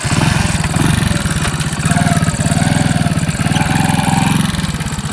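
A motorcycle engine runs steadily close by, a loud, continuous low throbbing idle with slight swells in revs and no talk over it.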